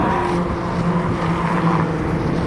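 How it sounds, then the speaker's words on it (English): Small hot hatch cars racing around the Brands Hatch circuit, a steady loud roar of engines blending together without a break, with a faint tonal whine running under the din. "nothing better than these little hot hatches"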